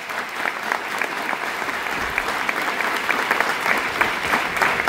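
An audience bursts into sustained, dense applause, clapping steadily and growing slightly louder over several seconds, with no voices rising above it.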